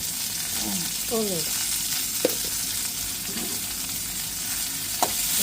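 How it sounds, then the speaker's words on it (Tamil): Green chillies, mustard seeds and curry leaves crackle and sizzle in hot oil, a loud, continuous fry with scattered pops, while a spoon stirs through the pan and a voice speaks briefly. "பச்சை மிளகாய் கடுகு ரொம்ப கருவேப்பிலை போடுவோம் கருவேப்பிலை"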